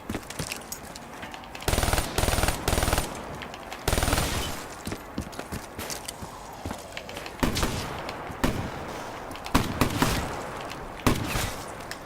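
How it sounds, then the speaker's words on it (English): Gunfire in Call of Duty Black Ops 3 Zombies: loud, rapid bursts of automatic fire separated by short pauses and scattered single shots, close and punchy, with no speech. "I'm firing off a couple extra rounds just in case"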